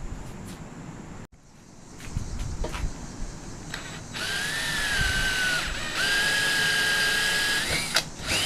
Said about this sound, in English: Get a little chamfer on the hole, get them burrs off.